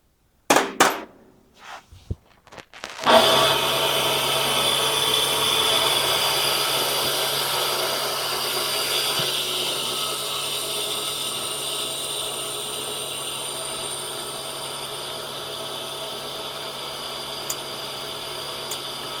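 A cutter grinder with its grinding wheel spins up after a few sharp clanks, then runs with a steady, loud whirring hum and high whine that holds without a break to the end.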